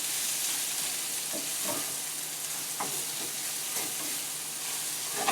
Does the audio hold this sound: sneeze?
no